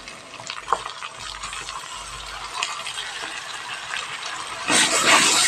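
Ginger garlic paste fries in a pan, a quiet steady sizzle with a few small clinks from stirring, growing into a louder burst of hissing near the end.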